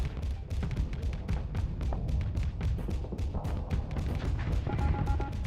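Ship weapons blasting during a StarSector space battle in a video game: a dense, continuous barrage of overlapping booms and rapid shots, loud and unbroken throughout.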